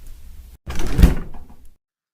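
A back door of a flower shop opens with a short, heavy thud and scrape, close and loud. The sound fades quickly into silence.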